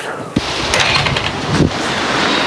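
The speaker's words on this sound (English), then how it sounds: "Another windy day." Strong wind buffets the microphone in a continuous roar with gusty swells, loud and close, with no speech.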